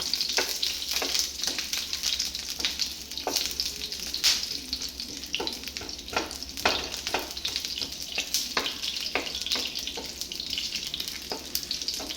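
Sliced ginger frying in oil until golden, a steady close sizzle with a run of sharp spatula clicks and scrapes against the pan, no voices.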